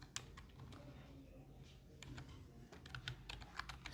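Typing a MySQL command on a computer keyboard, with rapid, irregular close-up key clicks at low volume, in clusters with brief pauses.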